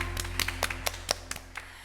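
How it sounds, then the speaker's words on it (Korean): A church congregation at a Sunday service gives a brief round of praise clapping, a handful of distinct claps spaced irregularly over a steady low hum, fairly faint. "하나님께 다 같이 영광의 박수 올려드리겠습니다."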